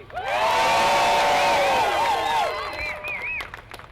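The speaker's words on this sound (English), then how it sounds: "make the loudest possible noise that you can. Clap, whistle, pop." A big crowd at a Red Bull party event roars with cheers, whoops and shrill whistles, loud and sustained, with applause underneath before it gradually tapers off.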